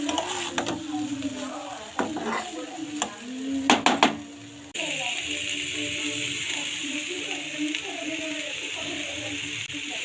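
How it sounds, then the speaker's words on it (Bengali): Potatoes frying with tomato, onion and green chili are stirred in a pan, with scraping and clinking strokes over a continuous close sizzle. "দিয়ে আবারও ভালো করে নাড়িয়ে নিচ্ছি"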